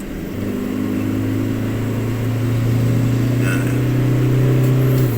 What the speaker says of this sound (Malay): You see the rev range naik, and then you can feel the car accelerating.